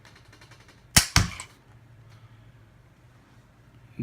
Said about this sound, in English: We're going to test the original Tavor trigger